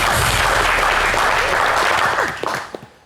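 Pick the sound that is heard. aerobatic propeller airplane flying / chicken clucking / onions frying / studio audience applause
studio audience applause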